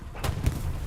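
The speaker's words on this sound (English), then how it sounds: "Rockets." Rockets fire in the World War II shooter Hell Let Loose, on a D-Day Carentan canal-crossing map: two sharp, booming launches in quick succession, about a quarter second apart, punching out of low background noise.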